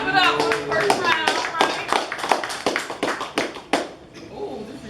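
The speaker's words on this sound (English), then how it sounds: "Clap it up for the first round" Audience at a rap battle clapping and applauding after the first round, a dense burst of many hands with sharp individual claps standing out, gradually thinning toward the end, with voices mixed in.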